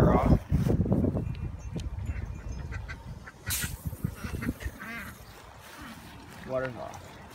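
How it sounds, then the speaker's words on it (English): Several ducks quack intermittently in a backyard flock of ducks and chickens, moderately close, with a brief harsher honk-like call near the end, mixed with background noise and people talking at times. "I don't think Bucko and that brown duck get along"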